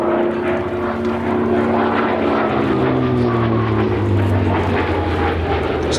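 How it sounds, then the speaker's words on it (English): A Hawker Fury FB.II piston-propeller fighter flies a display at Sywell Airshow, its engine a loud, sustained drone that shifts in pitch as the aircraft passes, with no talk over it. "So the pilot Paul Bonham showing his amazing skills"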